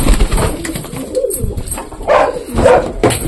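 Grown Madras pigeons coo loudly and close by, making repeated throaty rolling calls in a pet pigeon loft, with a faint dog bark mixed in.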